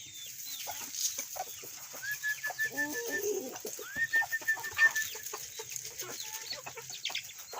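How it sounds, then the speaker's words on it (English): Chickens being fed bread give soft, scattered clucks and short calls, fairly close but quiet, over a faint background hiss. "Chickens."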